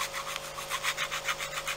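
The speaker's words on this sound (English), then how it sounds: "this is a falling apart emery board that I'm just gonna sand the edges with" Rhythmic back-and-forth rasping of a worn, falling-apart emery board sanding the edges of a polymer clay piece, about a dozen quick close strokes at a steady pace, with no talking.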